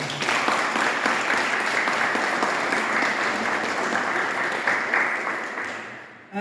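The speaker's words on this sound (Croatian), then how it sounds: "lijepo molim da ih svi pozdravite jednim srdačnim pljeskom" An audience at a multilingual festival opening gives warm applause, dense sustained clapping from many hands that continues evenly and then fades out at the end.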